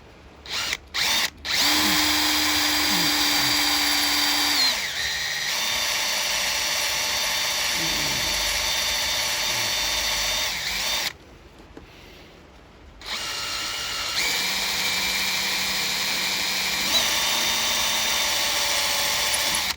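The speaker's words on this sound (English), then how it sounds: "Let's drill this backwards and see if it'll pull it out whilst it's doing it." A power drill runs in reverse, backing a bit out, with a steady high whine that stops and restarts in several bursts and a short silent gap midway; the motor pitch shifts slightly between runs.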